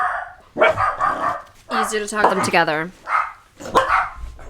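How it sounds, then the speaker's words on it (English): Dogs barking in bursts under and between a conversation, several sharp barks cutting across the voices, fairly close and loud. "They fucking barked right while we were talking"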